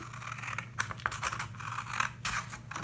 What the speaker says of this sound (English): Now I'm going to just take my scissors, start on the folded edge, and I'm going to cut